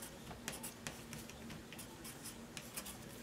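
A pen scratches numbers onto popsicle sticks, quiet close strokes with short scribbles and small taps in an irregular rhythm.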